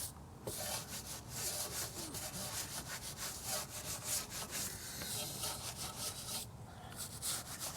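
A brush scrubs the inside of a chrome wheel on a Mercedes-Benz SL55 around the brake caliper, giving a steady, close, rough bristly rubbing with rapid strokes that runs throughout without pause.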